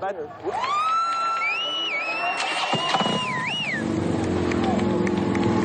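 A group of motorcycles from a women's riding club roll in somewhere in California, their low engine rumble building steadily toward the end beneath people chatting.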